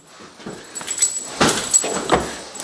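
A dog outside near a mill gives a few short whimpering yelps and cries, close and fairly loud, in uneven bursts with quiet gaps between them.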